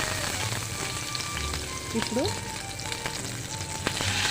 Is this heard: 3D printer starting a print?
no